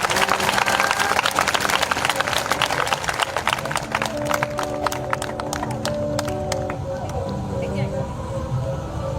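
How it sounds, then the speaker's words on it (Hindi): A church congregation at a live prayer meeting claps in thanks, a dense, continuous burst of applause with sharp hand claps across the clip, loud and close, with voices mixed in beneath. "जो जवान है वो ताली बजाकर धन्यवाद दें।"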